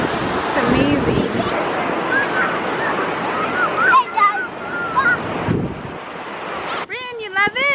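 Ocean surf rolling onto a crowded Huntington Beach shore, a steady broadband wash of breaking waves with nearby voices and chatter mixed over it.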